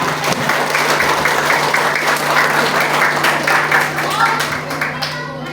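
Students and guests applaud at a Grade 6 farewell ceremony at an Indonesian primary school, a loud, dense patter of clapping from a crowd that carries on steadily for several seconds before thinning at the end.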